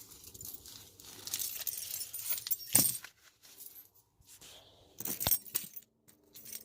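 A set of keys for an S10 Blazer 4x4 jangles in bursts, bright metallic clinks close by with quiet gaps between, one sharp clatter near the middle and another burst toward the end.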